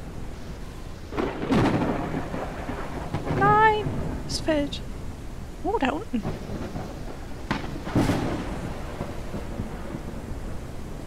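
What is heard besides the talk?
thunderstorm with rain in the video game Forever Skies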